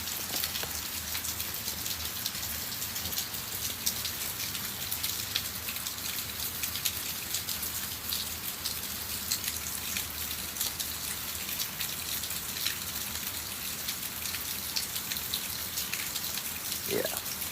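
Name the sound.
heavy rain falling in Florida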